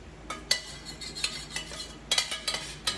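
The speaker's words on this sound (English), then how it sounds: "we're gonna scrape that pot, get all those goodies in there" A utensil scrapes the bottom of a slow cooker pot during a crockpot short rib recipe, making short, close scratchy strokes in irregular bursts with quiet pauses between them.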